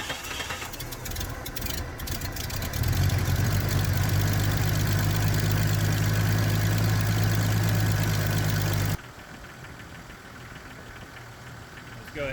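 A 1997 Jeep Cherokee XJ engine, newly fitted with four-port fuel injectors, idles close by with a steady low rumble that settles into a lower, quieter idle near the end.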